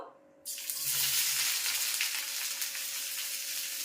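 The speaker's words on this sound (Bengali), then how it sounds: "এবার পেঁয়াজটা বন্ধু লাল লাল করে ভাজতে হবে" After a brief quiet moment, about a bowlful of thinly sliced onions hits hot oil for a chicken dish and bursts into a loud, close, continuous sizzle that stays strong and steady.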